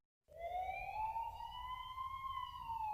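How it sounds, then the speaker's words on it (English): A single police siren wails steadily, its pitch rising slowly and then sagging, heard alone with a quiet rumble beneath. "we heard police sirens in the distance"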